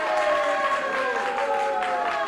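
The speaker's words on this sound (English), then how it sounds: "Listen to the applause." A wrestling crowd in Detroit applauds after the Sheik's victory, a steady roar of distant clapping and crowd noise, with tonal voices carrying over the top.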